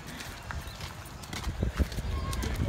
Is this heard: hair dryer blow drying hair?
no